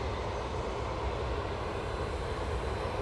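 An Emirates airliner departs Manchester Airport, its jet engines giving a steady, distant broadband roar that holds evenly throughout, with no talk.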